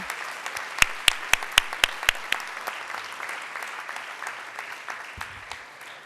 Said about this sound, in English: Let's give one more round of applause to all our recognitions this evening.